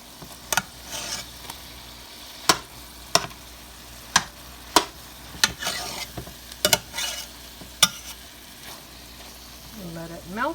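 Cheese chunks melt in a pan for keto gravy, giving a low frying hiss that is broken by sharp, regular clicks and scrapes of stirring against the pan, close up and moderately loud.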